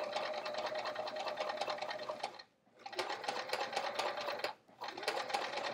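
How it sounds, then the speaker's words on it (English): A sewing machine top stitching through a bulky travel art folio, running in fast rhythmic bursts of stitching, loud and close, with two brief pauses between runs. "I am top stitching this down."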